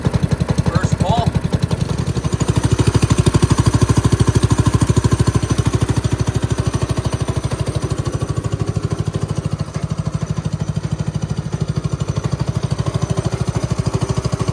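The small engine of a 2002 Manco Dominator go-kart runs right after a cold start, chugging nearby with a steady, fast, loud rhythm throughout the whole stretch.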